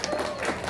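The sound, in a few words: children applauding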